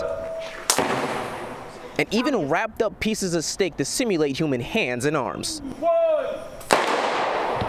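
Small explosives meant to mimic fireworks are set off on watermelons and wrapped steak at a fire department safety demonstration, with a sharp bang near the start and another near the end. News narration runs throughout.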